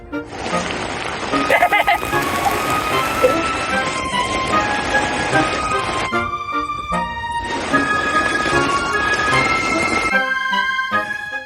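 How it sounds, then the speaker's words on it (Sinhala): Heavy rain pours onto a camping tent on Kabaragala hilltop, a dense, loud, continuous patter filling the whole stretch, with brief dips before the downpour surges again. "හොඳම වැස්සක් වහින්නේ දැන්. හොඳටම වැස්ස."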